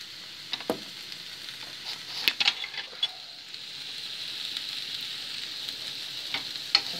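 Mushrooms sauté in a pan with a soft, steady hiss and occasional crisp pops and ticks, fairly quiet and close, with no talking.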